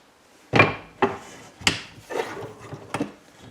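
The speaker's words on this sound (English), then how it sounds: "I'm just going to put it in my vise" An osage orange bow stave is being clamped into a vise, giving several separate wooden knocks and clunks at irregular intervals, close and fairly quiet, with no voices.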